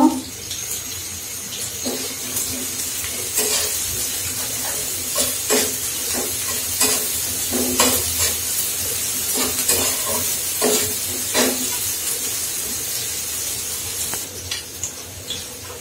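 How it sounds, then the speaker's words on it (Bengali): Chopped onions sizzle in a pan while cooking a Bengali rui fish head chana dal dish, a steady broadband crackle with intermittent clinks and stirring scrapes throughout. "আমি এখন এই পেঁয়াজটা ভেজে নিব।"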